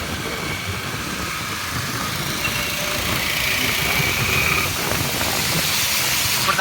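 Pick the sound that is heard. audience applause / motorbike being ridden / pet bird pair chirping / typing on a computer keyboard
motorbike being ridden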